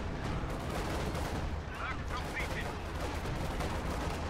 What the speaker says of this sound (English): More artillery assault going over there